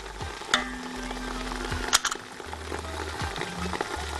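Tomato sauce sautéing in a pan with sugar, curry, Indian spices and cumin, a steady low sizzle broken by a few sharp clinks of stirring, close and alone with no voices.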